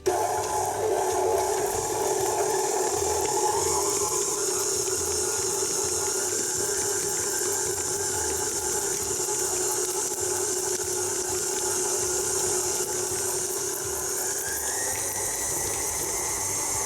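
Electric stand mixer whirring steadily at its lowest speed, mixing fried dough batter with egg yolk, a continuous loud hum with no pauses.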